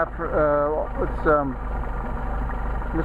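An engine idles steadily while Solex carburetors are tested, a low continuous rumble close by, with someone talking over it.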